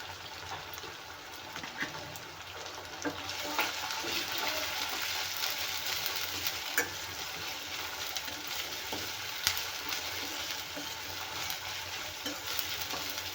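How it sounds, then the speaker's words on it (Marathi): Ground spice paste frying in oil for a vegetable dish gives a steady, close sizzle that swells after the first few seconds and holds, with faint stirring clicks over about thirteen seconds and no talking. "आपण वाटलेलं मिश्रण घालून घेऊया म्हणजे तेही छान तेलात भाजल्या जाईल"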